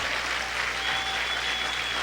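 Church congregation applauding steadily during an evangelical service, a dense continuous wash of clapping from many hands with no break.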